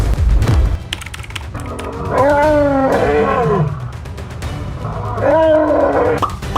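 A lion roars loudly and close, two deep drawn-out roars with a grunting rise and fall, separated by a brief lull.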